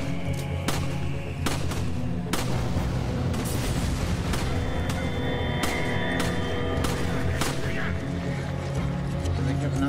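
Gunshots from enemy shooting in the video game Resident Evil 5, with sharp repeated blasts at an irregular rhythm over dense game action and booming effects, and voices talking now and then.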